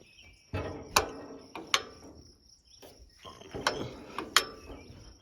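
Metal throttle lever on a 1942 John Deere Model B tractor with a stuck engine, freshly treated with penetrating oil, worked back and forth: several sharp, close metallic clicks and ratcheting creaks spaced irregularly, with no talking.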